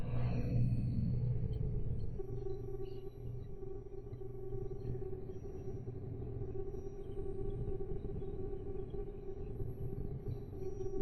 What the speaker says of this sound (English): There's a horrible hum coming from that computer.